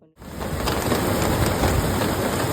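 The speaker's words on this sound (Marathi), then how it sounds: "बाहेर मस्त मुसळधार पाऊस पडत आहे" Heavy monsoon rain pours down outside, a dense, steady roaring hiss that starts abruptly after a brief silence and stays loud and unbroken throughout.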